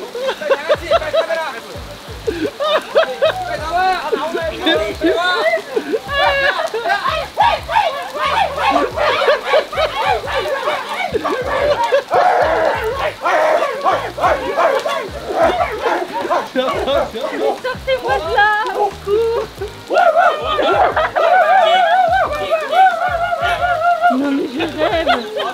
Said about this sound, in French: pendant que la pluie tombe